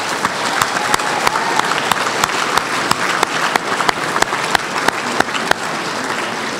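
An audience at a Prescott College speech night claps for athletes being congratulated, a steady, dense round of applause filling the hall throughout.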